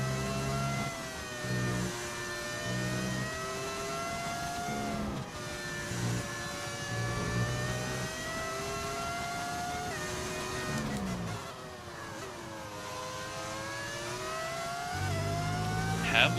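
Engine sound from the racing game F1 25, where modern cars carry old-era Formula 1 engines: a sustained, high-pitched engine whine that climbs and falls in pitch with gear changes, loud and continuous throughout.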